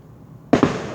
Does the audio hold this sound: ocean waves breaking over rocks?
no